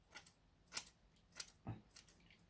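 Scissors snip the edges of a Flames of War tank marker model, trimming it down; four or five sharp, separate cuts spaced about half a second apart, fairly faint and close up, with no talking.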